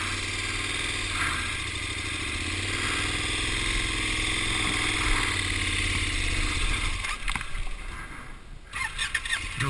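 A KTM 1090 Adventure R motorcycle engine labors up a steep, rocky trail, a steady loud drone that holds near and continuous before breaking into rougher, uneven bursts toward the end.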